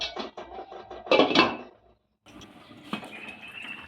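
A lid goes onto a pot of homemade potato pulao: a short burst of metallic clanks and clatter, followed by quieter kitchen clinks and a low background hiss.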